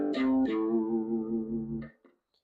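Electric guitar pentatonic lick played as one phrase: two sharp picked attacks followed by a long ringing low note that fades, then a couple of soft string noises, quiet and with no one speaking.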